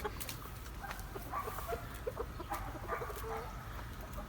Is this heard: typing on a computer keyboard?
no